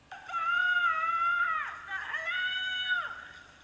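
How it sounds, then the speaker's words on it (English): Two long, loud, wavering screams inside an abandoned mine cave, each sustained about a second and a half with a brief gap between, ringing with harmonics and no talk. "The screaming."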